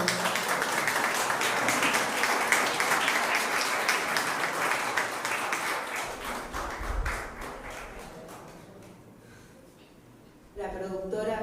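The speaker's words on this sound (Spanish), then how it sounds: "Un aplauso, por favor." An audience at an awards ceremony applauds warmly, dense clapping that gradually thins and fades out before a voice starts speaking.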